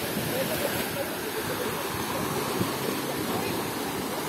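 Black Sea surf rolls onto a crowded beach at Veselovka in Krasnodar Krai, a steady, fairly faint wash of waves with no distinct breaks.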